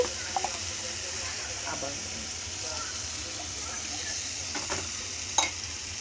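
Onion paste fries in a pan for a chickpea curry, a steady, close sizzle and hiss with a few clinks and scrapes of stirring; a voice speaks briefly over it.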